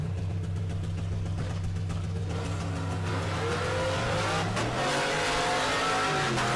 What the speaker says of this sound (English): Left lane, the Cadillac. That's Clint Cantu. The right lane, Adam Wildhaber. Dialed 1340 in the Silverado